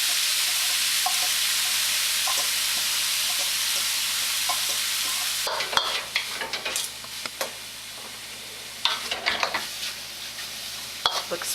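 Tofu frying in a pan for a Japanese-inspired meal, a steady broad sizzle at first, then giving way to scattered clinks and scrapes of stirring, close and fairly quiet with no talk.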